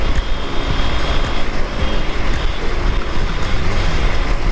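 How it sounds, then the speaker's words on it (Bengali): A fast motorbike on a road at night gives a loud, steady engine roar that holds for several seconds as it speeds past, close by, with no voices. "এত জোরে বাইক চালানো ঠিক না এই রাস্তায়, বিশেষ করে।"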